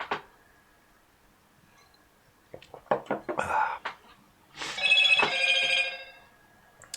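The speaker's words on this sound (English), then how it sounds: "That bloody phone's not stopped either." A telephone rings indoors during a live photo-editing session, its repeated bell bursts loud and close, alternating with stretches of quieter room sound.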